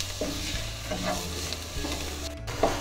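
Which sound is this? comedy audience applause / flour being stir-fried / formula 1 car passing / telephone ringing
flour being stir-fried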